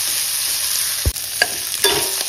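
Chopped papdi beans tossed into a pan of fried onion, with a steady sizzle of frying under a few sharp thumps and scrapes as the vegetables are stirred, close and fairly loud with no talk.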